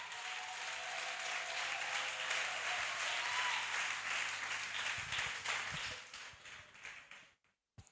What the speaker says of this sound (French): Est-ce qu'on peut encore applaudir pour Jésus-Christ de Nazareth?